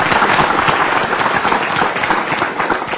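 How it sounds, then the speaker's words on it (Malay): A studio audience on a television talk show applauds for a Malaysian politician on the panel, producing a loud, dense and continuous burst of clapping that holds throughout. "Kita beri tepukan kepada Datuk."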